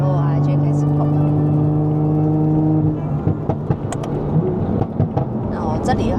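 A 550 hp Toyota Supra with an 8-speed ZF gearbox holds a loud droning engine note that drops away, followed by sharp crackles and blips as it downshifts, with a voice present.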